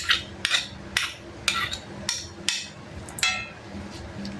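Rhythmic scraping in a home kitchen while a spicy Thai mackerel salad is made, about eight evenly spaced rasping strokes at close range, bright and fairly loud, with no talking.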